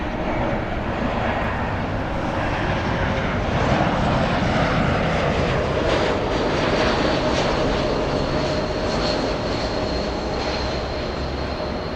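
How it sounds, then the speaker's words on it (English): A SkyWest Embraer E175 regional jet airliner passes at Los Angeles International Airport, a loud, steady broadband engine roar sustained throughout without speech. "Skywest 3842 flying to San Jose,"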